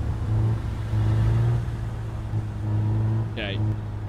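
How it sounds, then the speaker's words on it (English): A car engine in the video game Big Ambitions drones with a steady mid-pitched hum that swells and eases in waves, with a brief rising chirp near the end. "Honestly, the car sounds pretty good, too, for what it is."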